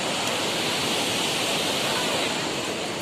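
A river on the road to Gangotri rushes as a steady, continuous broadband roar, fairly loud and unbroken, with no voices.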